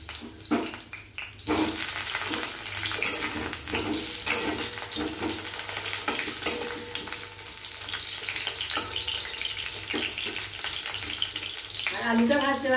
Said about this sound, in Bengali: এবার দিয়ে দিচ্ছি আলু।